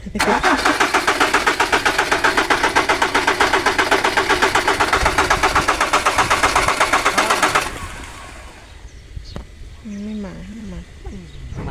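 A Mazda BT-50 Pro pickup engine starts at a car repair shop and runs with a loud, rapid, pulsing chug for about eight seconds, then cuts off abruptly. Someone talks in the quieter stretch afterward.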